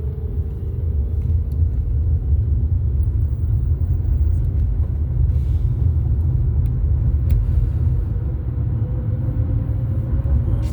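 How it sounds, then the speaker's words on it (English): Afternoon road traffic produces a continuous, heavy low rumble of passing vehicles that holds steady the whole time, with no voices. "I forgot about this afternoon traffic."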